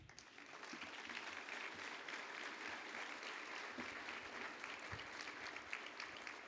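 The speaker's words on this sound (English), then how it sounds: "I think it deserves a round of applause." Audience applause at the Kentucky Bourbon Hall of Fame induction ceremony, a steady faint roll of clapping from a large crowd lasting several seconds without talk.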